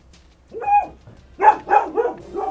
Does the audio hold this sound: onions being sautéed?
no